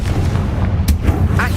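An explosive Confringo spell going off in a video game, a dull booming burst amid continuous rumbling game noise, followed by a brief voice.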